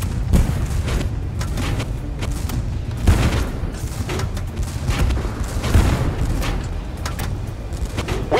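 Tank cannon fire in the multiplayer tank game Tank Force during a 2v2 match, a continuous din of heavy booms and rumbling blasts with overlapping shots throughout, loud and dense.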